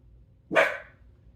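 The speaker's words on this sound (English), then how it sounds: "Oop, that's our vicious guard dog." A dog gives a single sharp bark nearby, a short loud burst that fades quickly against a quiet room.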